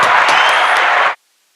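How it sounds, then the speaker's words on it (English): A crowd in a live radio studio applauds in a dense burst of close clapping that stops abruptly into silence after about a second. "let's give ourselves a round of applause"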